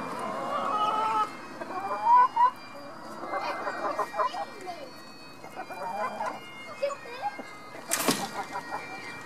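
Silkie and Appenzeller Spitzhauben chickens cluck and murmur close by in a backyard flock, with scattered calls, one sharp loud squawk near the end, and people speaking softly at times.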